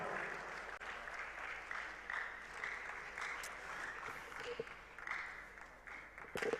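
Audience applause at a Ghana Digital Innovation Week closing ceremony, a fairly quiet, distant-sounding spread of clapping that rises and dips slightly, with a few sharper claps and knocks standing out near the end.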